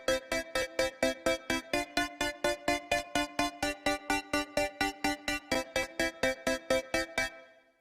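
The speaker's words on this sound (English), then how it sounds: "I have these digital chords, which are just some digital chords, as the name says, that I'm getting from Serum." Digital synth chords from Serum in a rhythmic stabbing pattern, a fast even run of short bright hits in an FL Studio remake, played alone and stopping cleanly at the end.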